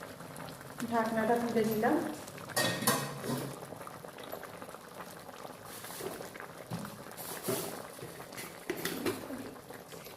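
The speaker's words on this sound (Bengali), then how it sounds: "বন্ধুরা, আমার ডালটা ফুটে এসছে," Masoor lentil dal with jute leaves bubbling in a pot, a soft burbling boil close by, with a lid clattering off early and someone speaking briefly over it.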